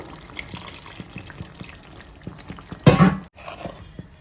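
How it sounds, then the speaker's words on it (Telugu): Tamarind extract poured into a simmering prawn and okra curry, a soft bubbling background topped by one brief, loud splash of liquid near the end, with no talk. "ఇప్పుడు మనం పులుపు వేసేసుకుందాం దీంట్లో చూడండి చింతపండు పులుపు తీసి ఉంచాను"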